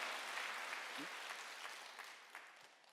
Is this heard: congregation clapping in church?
yes